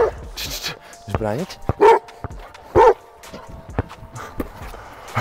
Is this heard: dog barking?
yes